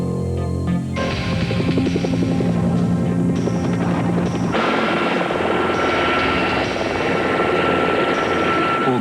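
Military helicopters fly close by, their loud, steady rotor and engine drone filling the scene without pause, with a shift in pitch and texture partway through.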